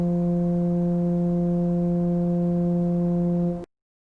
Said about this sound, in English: And the longer pipes will make a deeper sound like this.